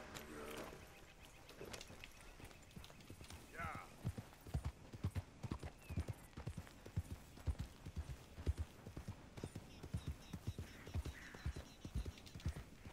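Horse hooves from Red Dead Redemption 2 gameplay, a steady clip-clop rhythm of moderate loudness running throughout, with talk heard underneath and a brief whinny-like sound early on.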